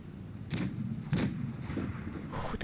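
Tank cannon shots in World of Tanks Blitz during a Kraken Team Gala 2019 match, three or four booming blasts spaced about half a second apart over a continuous low rumble, with no talking.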